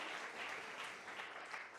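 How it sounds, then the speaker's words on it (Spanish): Congregation applauding in a church during a service, a soft, steady wash of many hands clapping that sounds somewhat distant and muted throughout. "Fuerte ese aplauso a nuestro Dios en esta tarde."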